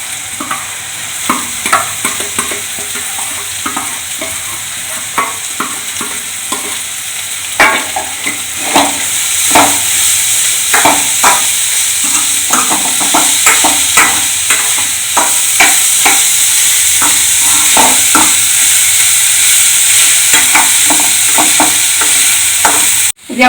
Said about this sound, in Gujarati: તો આ ડુંગળી નાખી દીધી.